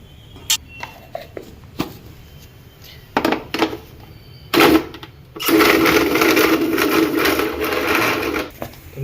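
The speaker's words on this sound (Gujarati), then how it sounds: "હવે આપણે ખજૂરને મિક્સરમાં પીસી નાખીએ." A mixer grinder pulverises pitted Iranian dates, first with short clattering bursts and knocks, then running loud and steady through the last few seconds.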